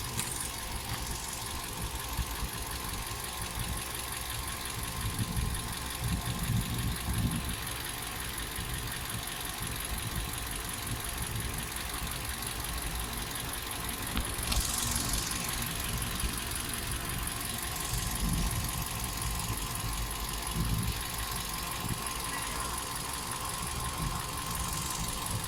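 A warm car engine idles steadily at low volume, a continuous even hum with faint vibration and no revving, running alone for the whole stretch.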